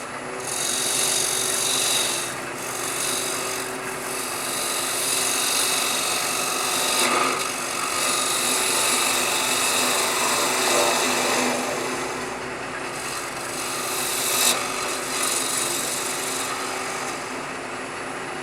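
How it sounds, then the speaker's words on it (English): A deep V bowl gouge cuts a wooden bowl spinning on a lathe at about 1,000 to 1,200 rpm, making a continuous close scraping and rasping with some brief louder bites as the tool works the wood. "this is a bowl gouge. It's a deep V bowl gouge."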